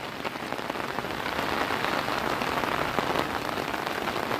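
Heavy typhoon rain pours down in a dense, constant hiss of drops hitting surfaces, steady and enveloping without pause.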